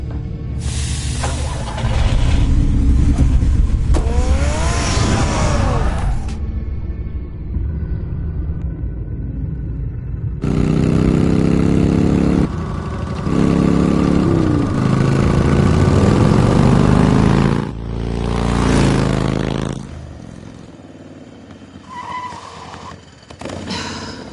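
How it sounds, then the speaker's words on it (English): A car in a Batman video game, driven during a pursuit out of the city, rumbles loudly in long engine bursts broken by gaps and shifting tones, with game sound effects mixed in. "Get the car ready, Alfred."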